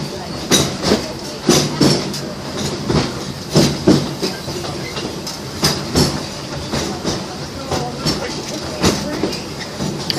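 A Walt Disney railroad train rolls along its tracks, nearby and loud, with a rhythmic clickety-clack of wheels over rail joints and a steady hiss underneath, while a voice speaks faintly in places.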